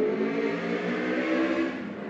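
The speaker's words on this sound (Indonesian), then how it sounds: "tadi ada motor" A motorcycle passing by outdoors, its engine a steady whirring drone at moderate volume that holds for about two seconds and eases slightly as it moves away, with no voices.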